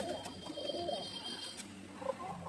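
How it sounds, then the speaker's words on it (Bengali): Soft cooing and murmuring of Bengali pigeon chicks nearby, a few low gurgling calls over a quiet background. "এরা হচ্ছে বাংলা কবুতরের বাচ্চা, বাংলা কবুতর"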